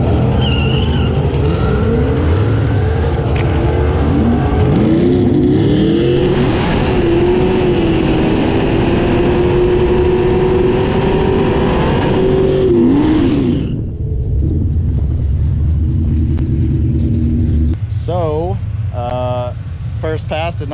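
A Ford Mustang Foxbody drag car at a test-and-tune session roars loudly as it launches and revs hard for about thirteen seconds, then cuts off abruptly, leaving a quieter idle and background noise.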